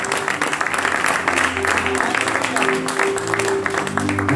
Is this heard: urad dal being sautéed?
no